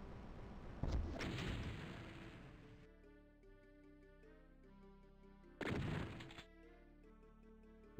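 A rocket launcher firing in the classic shooter Doom, two separate heavy blasts several seconds apart, each a loud boom fading out, with quieter game music and effects playing between them.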